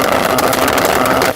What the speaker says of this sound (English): Have a listen to mine with the tuned exhaust.